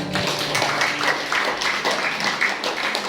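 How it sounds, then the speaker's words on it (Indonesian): Church congregation at a Sunday sermon clapping together, a dense, steady patter of many hands sustained throughout at moderate loudness with no voices over it. "Mana tepuk tangan?"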